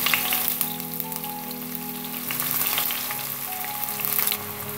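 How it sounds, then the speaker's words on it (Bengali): Chopped onions fry in oil for a Bengali chicken mushroom dish, giving a steady, close crackling sizzle with scattered pops, like light rain, and no voices. "পেঁয়াজটা সামান্য একটু ভেজে নিতে হবে।"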